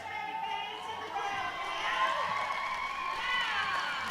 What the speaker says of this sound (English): It's nice to hear the crowd as well